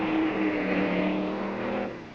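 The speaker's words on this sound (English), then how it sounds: "his Ford Fairlane Thunderbolt, powered by a 427 cubic inch high riser Ford engine" A 1964 Ford Fairlane Thunderbolt drag car with a 427 cubic inch high-riser Ford engine roars loudly at a drag strip, a sustained engine drone that fades slightly at the end, with no talking.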